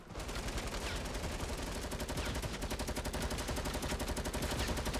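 Rapid automatic gunfire in the video game Fortnite crackles in a dense, even rattle that runs continuously at moderate volume, with no voices over it.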